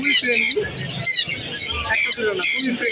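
Pet birds at a bird market in Mirpur 1, Bangladesh, squawk and chirp in repeated shrill bursts, loud and close, with a faint voice under the calls.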